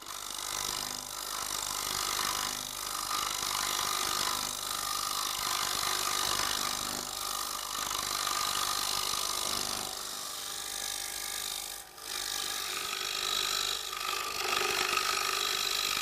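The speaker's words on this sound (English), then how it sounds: "For fast waste removal without having to worry about sharpening, we are using the round-shaped tungsten carbide cutter" Wood turning on a TurnMaster with a round tungsten carbide cutter for fast waste removal, a steady loud scraping hiss over motor hum, continuous with one brief dip.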